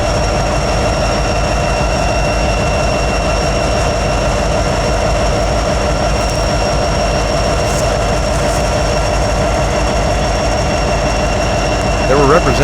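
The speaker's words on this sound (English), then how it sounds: "those prime movers sounded pretty darn good when we were up close" GE and EMD diesel locomotive DPUs on a freight train rumble loudly and steadily up close, a continuous throbbing prime-mover drone with rail noise and no talking.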